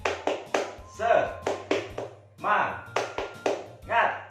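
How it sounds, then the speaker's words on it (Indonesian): A fifth-grade primary school class performs a patterned spirit clap, with sharp bursts of hand claps and taps in a lively repeating rhythm. Voices chant along between the clap groups. "Tepuk semangat."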